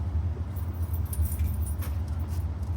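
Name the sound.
keys dropped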